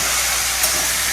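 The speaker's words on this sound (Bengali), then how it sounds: "এবারে তেলের মধ্যে চিংড়ি মাছগুলোকে দিয়ে দিচ্ছি।" Prawns hiss and sizzle loudly in hot oil, a steady close-up frying roar that holds evenly throughout without a break.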